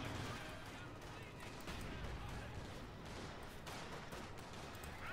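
Gunfire from the video game Company of Heroes 2, with dense rattling bursts of machine gun fire and battle noise running continuously and fairly faint through the mix.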